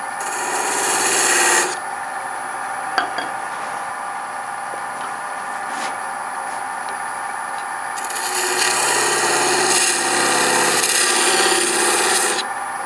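A repurposed old gouge cuts a bead into wood spinning on a lathe, giving a continuous hissing, scraping rasp that swells louder at the start and again near the end, with no talk.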